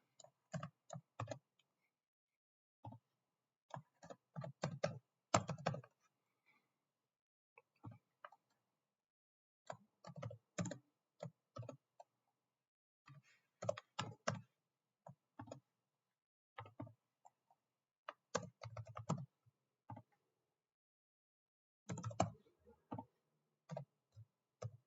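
Computer keyboard typing a file path, bursts of crisp clicky keystrokes in quick runs separated by silent pauses, close and fairly quiet, with no talking.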